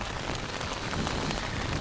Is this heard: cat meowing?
no